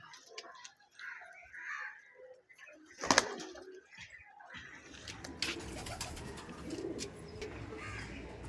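Teddy pigeons coo in a loft, a soft murmuring chorus that builds after a sharp clatter midway, with wing flaps and busy background noise.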